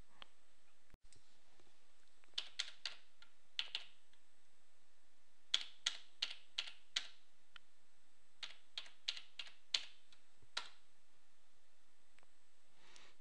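Password keys tapped on a computer keyboard while setting up an internet-programmable alarm PLC: sparse, close, crisp clicks in short bursts of several keystrokes separated by pauses, with no voices.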